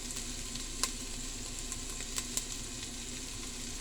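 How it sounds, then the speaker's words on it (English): Small pieces of chopped garlic with ground turmeric sizzle gently in a pan while lamb shanks cook Mediterranean style, a faint steady hiss with a few sharp ticks from a utensil. "add the garlic that I already cut in small pieces"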